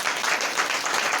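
A church congregation claps in a dense, continuous burst of applause that fills the room evenly from start to finish.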